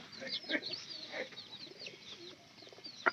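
Pigeons near their nest softly coo in short, low, repeated phrases, fairly faint, with a louder flutter or call right at the end.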